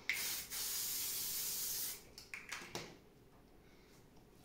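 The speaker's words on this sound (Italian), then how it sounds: "spray fissante della L'Oreal gentilmente regalato" L'Oreal setting spray hisses out of the can in a long close spray burst, followed by a second longer spray and then a few faint taps and rubbing handling noises.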